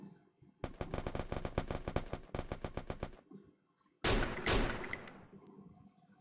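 Rapid bursts of automatic gunfire from the Free Fire video game, two long rattling volleys in quick succession, then a louder, harsher blast of fire near the end, with no talk.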